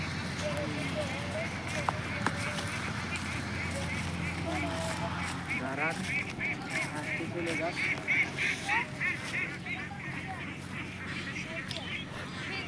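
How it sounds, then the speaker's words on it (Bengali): A flock of farm-raised ducks quacks in bursts, the calls growing busier in the second half over a low background rumble, with a voice talking nearby. "কে গুনতে পারবা এখানে কয়টা হাঁস আছে?"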